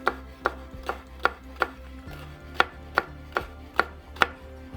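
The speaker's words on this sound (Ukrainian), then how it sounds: "Тоненькими кільцями нарізаю гострий перець чилі." A knife slices a hot chili pepper into thin rings on a cutting board, about a dozen crisp, evenly spaced taps, close up with no voices.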